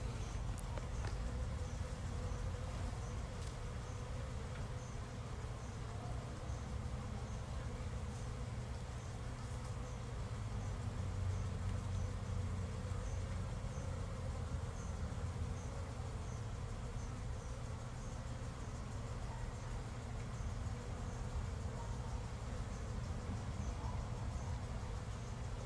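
Honeybees buzzing in an open beehive during a hive inspection, a steady dense drone, close and continuous, with faint light handling noises.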